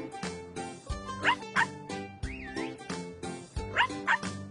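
A puppy in a children's pet care video game gives several short cartoonish barks and yips over bouncy background music, with no talking.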